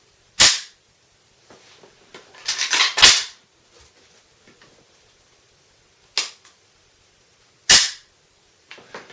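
An AKM rifle fires from a prone supported position at long range: four loud, sharp, isolated shots spaced a couple of seconds apart, with a cluster of clanking rattles and clicks between the first and second shots.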